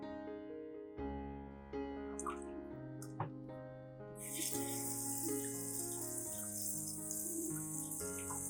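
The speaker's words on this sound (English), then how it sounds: "Wash the tomatoes under running water." Fresh tomatoes rinsed under a running kitchen tap, water splashing and trickling steadily, swelling into a louder gush midway, with soft background tones throughout.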